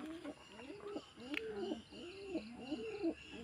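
Pigeons cooing at a farm, a soft repeated rolling coo sounding over and over at low volume, with a faint chirp partway through.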